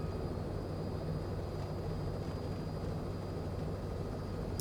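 A Cowansim Robin helicopter taking off in Microsoft Flight Simulator 2020, a steady, faint engine and rotor drone with a constant whine holding even throughout, no voices.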